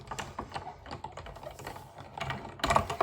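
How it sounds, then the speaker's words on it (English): A die cutting machine cuts paper dies at a crafting bench, giving a steady run of quick, close mechanical clicks and ratcheting ticks that swell into a louder burst near the end, with no talking. "now let's die cut all these. Back to the die cutting machine."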